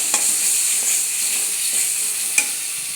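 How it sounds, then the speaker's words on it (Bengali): Spices and a spoonful of sugar are stirred in a pan for an aloo karela dish, giving a soft sizzle with a few light scraping clicks from the spoon; quiet and brief, no talking. "চিনিটা দিয়ে কিছুক্ষণ নাড়াচাড়া করে"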